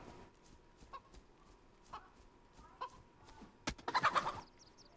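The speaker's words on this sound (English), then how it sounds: "And I heard a chicken" Chicken clucking in the survival video game DayZ: a few soft clucks in the first seconds, then a louder, busier burst of clucking near the end, heard alone against faint background ambience.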